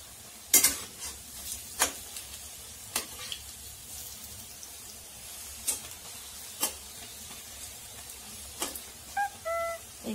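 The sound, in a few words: pakoras frying in oil and being flipped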